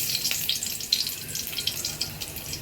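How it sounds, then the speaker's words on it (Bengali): Bay leaf and dried chili sizzle steadily in hot oil, a soft continuous crackle and hiss with small pops, close up and alone, with no talking. "প্রথমে আমি তেলের মধ্যে তেজপাতাটা দিয়ে দিলাম তারপরে দিয়ে দিলাম শুকনা মরিচ"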